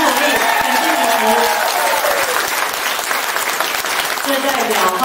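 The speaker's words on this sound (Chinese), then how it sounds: "给主席掌声鼓励" A crowd at a party campaign rally in Hualien claps for the chairman, sustained loud applause throughout, with a voice speaking over it.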